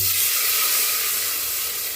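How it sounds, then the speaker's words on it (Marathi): Half a pot of water hits a hot vessel holding a spoonful of oil, producing a loud, steady steaming hiss and sizzle close by, with no talking. "त्यामध्ये अर्धा तांब्या पाणी टाकून घेऊया आपण"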